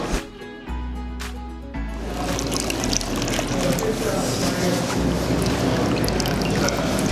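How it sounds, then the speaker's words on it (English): Cooked cauliflower squeezed hard in a towel for pizza crust releases water in a continuous trickling, dripping patter, close and fairly loud, after a brief moment of kitchen noise. "We need to squeeze really hard and take off all the water."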